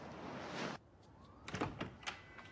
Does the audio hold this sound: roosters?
no